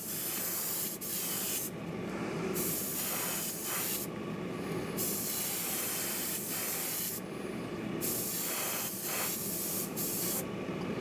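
An airbrush or spray can hisses in repeated short bursts while painting a 1/12 scale Maserati 250F Streamliner model kit, with brief quiet gaps between passes and no talk.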